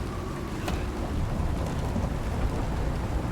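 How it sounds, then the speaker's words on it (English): Heavy rain pours in a thunderstorm in the video game Icarus, a dense, steady roar of downpour with a low rumbling undertone, loud and continuous with no voices. "Wow, that's a massive storm."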